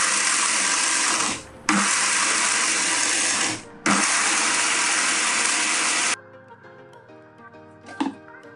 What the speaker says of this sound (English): Then we are going to grind this in a mixer grinder until it becomes a powder.